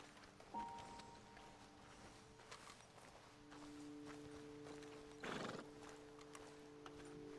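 Horses from Red Dead Redemption 2 snort, whinny and clop their hooves at a roadside ledge, with a brief loud burst midway over steady game ambience and background music tones.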